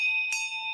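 A town crier's hand bell struck once, a bright ringing clang with a sustained metallic ring that lingers through the moment, heard alone and close.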